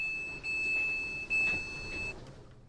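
A steady electronic beep tone sounds as the doors open on a Southwest Trains Class 444 electric multiple unit in Train Simulator. The tone plays over quiet cab hum and cuts off near the end.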